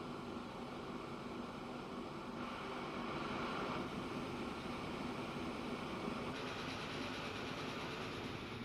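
A steel freight train in Transport Fever 2 rumbles along with a steady, even rolling roar and faint rhythmic rail clatter, continuous and fairly quiet, with no talking.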